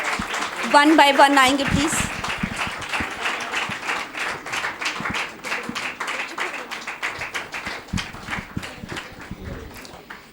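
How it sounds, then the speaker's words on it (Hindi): Scattered hand clapping from an audience at a seminary certificate ceremony, starting after someone speaks briefly and continuing as uneven, moderately loud applause to the end. "आप लोग तालियां बजा सकते हैं।"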